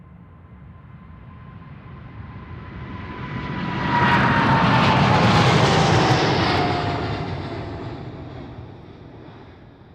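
An Emirates airliner's engines at Amsterdam Schiphol swell from a distant rumble to a loud roar at mid-clip, then fade away again as the jet passes.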